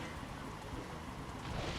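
Steady rain falls in the video game Pokémon Colosseum, a continuous broadband hiss with no gaps, moderately loud and filling the whole stretch, with no clear voice over it.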